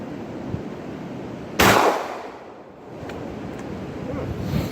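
A single loud, sharp shot from a Hatfield SGL .410 single-shot shotgun outdoors, a sudden broadband crack that decays over about half a second against steady wind and background noise.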